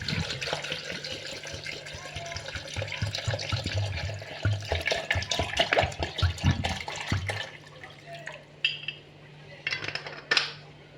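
A liter of cold water being poured into a Moulinex blender jug, heard as a close, splashy gush with clinks of the container, then quieter scattered knocks as the pour ends.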